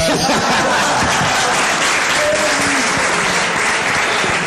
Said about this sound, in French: Merci, on applaudit Dola Star.